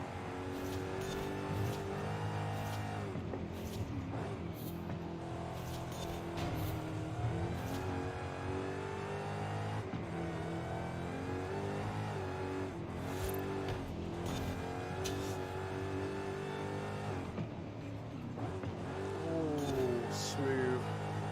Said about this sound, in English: This car sounds amazing.